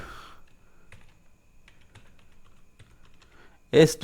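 Light, sparse clicks from a computer keyboard as someone types a name into a cell of an MS Excel spreadsheet, fairly quiet and close, with a brief burst of a voice at the end.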